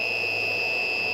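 Golf cart inverter sounding an undervolt alarm during a capacity test of a Dakota Lithium 36 volt 100Ah battery pack: one loud, steady high-pitched tone held throughout, with no speech.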